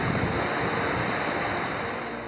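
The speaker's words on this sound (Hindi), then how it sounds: "यहाँ तो पानी का शोर भी सुकून देता है।" Steady, dense roar of a waterfall in Kharmang district, broadband rushing water heard close and continuous with no voices.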